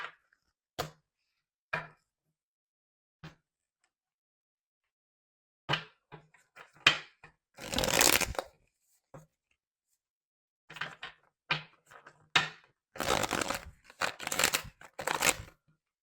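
Tarot cards shuffled by hand in irregular bursts, sharp isolated snaps and taps early on giving way to longer riffling flurries, close and fairly clear with no talking.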